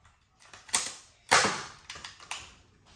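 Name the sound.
toy laser gun shooting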